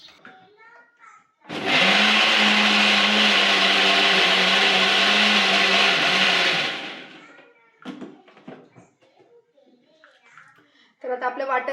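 Electric mixer grinder whirring loudly for about five seconds as it blends onion, ginger, garlic, coconut, chili and coriander into a green masala, with scattered voices, including a child's, before and after.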